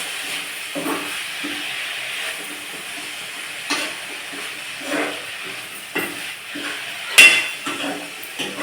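Ponnaganti greens being stirred in a pan over a low flame, with soft scraping and light clinks of a utensil against the pan in a loose, irregular rhythm under a steady faint hiss.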